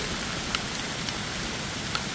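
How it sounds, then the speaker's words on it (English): A heavy tropical downpour, arriving just after hailstones, falls as a dense, steady roar of rain with a few faint drips ticking through the constant wash. "this is like an absolute, like, tropical downpour"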